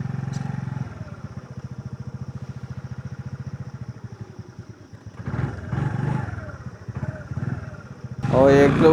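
A motor scooter engine labours on a steep uphill road during a Kathmandu hike, a steady throbbing putter running close and loud throughout, with a burst of rougher noise near the end.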